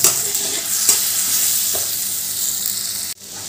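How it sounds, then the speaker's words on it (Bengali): Spice paste sizzles loudly in hot oil in a pan with pumpkin, stirred with a few scraping strokes, then a sudden drop in the sizzle near the end. "এবার যে মশলার পেস্টটা বানালাম ওই পেস্টটা তেলের মধ্যে দিয়ে দিলাম। এবার মশলাটা ভালো করে কষিয়ে নেব।"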